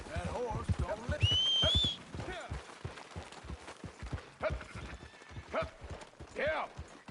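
Horse hooves clip-clop steadily in a PS4 video game, with a rhythmic run of soft thuds beneath someone talking over most of the stretch.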